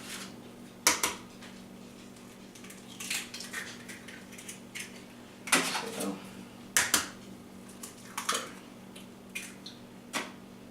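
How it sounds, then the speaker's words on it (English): Three eggs cracked one by one into a KitchenAid stand mixer bowl for homemade pasta dough, giving a few sharp, close taps and cracks spaced apart over a quiet kitchen hum. "First thing I'm going to do is I'm going to break 3 eggs"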